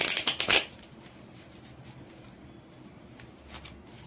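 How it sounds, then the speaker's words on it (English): Tarot and oracle cards are shuffled in a quick riffling burst near the start, followed by faint, quiet handling for the rest of the clip. "Last time mixing, and then we'll shuffle the cards."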